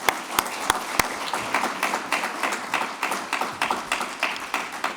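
Audience applause welcoming panelists onto a stage at a debate on generative AI and creative work, opening with a few sharp, close individual claps before a steady, dense clapping from the crowd carries on.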